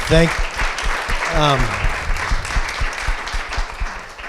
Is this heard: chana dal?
no